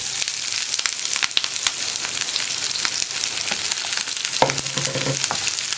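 Sliced onions and green chillies tipped into hot oil for masala dosa filling sizzle steadily in the pan, with occasional sharper crackles and stirring scrapes near the end.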